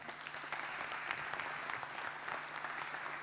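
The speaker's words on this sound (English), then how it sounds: "a round of applause for my guests from Switzerland" A crowd applauds steadily, with continuous clapping at moderate distance for a few seconds.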